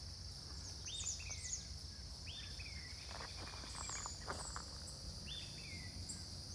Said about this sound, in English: Listen, what bird is that?